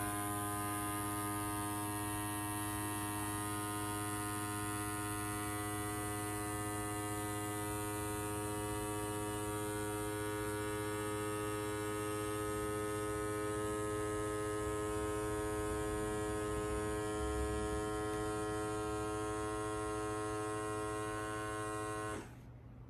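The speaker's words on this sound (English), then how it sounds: "it's still taking out the air out of it, all the oxygen, O2 out of it as it takes it out" A Ninja blender's vacuum pump draws the air out of a smoothie container, giving a steady, loud electric hum with a strong buzzing tone that runs unbroken for about 22 seconds and then cuts off abruptly, with no talking.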